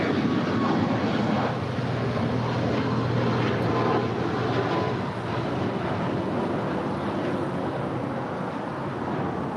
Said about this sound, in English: This next departure is Alaska Airlines 249 departing to Austin on a 737 MAX 9